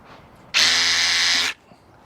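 A Hilti core drill in drill mode whirs loudly for about a second with a steady high-pitched motor whine, then cuts off abruptly into quiet.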